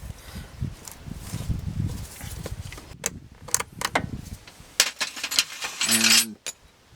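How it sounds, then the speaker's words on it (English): Metal hose clamp being worked off a hydraulic hose on a Wright Stander ZK mower, a series of sharp metallic clicks and scrapes, ending in a brief ratcheting rattle before falling quiet. "So let's go ahead and pull the hose clamp off."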